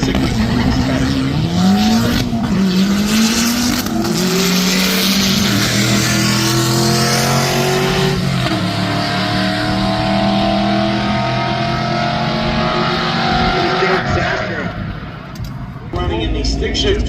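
A naturally aspirated stick-shift Ford Mustang races at a drag event, its engine revving loud and close, rising through gears with tire noise, as an announcer talks over it throughout.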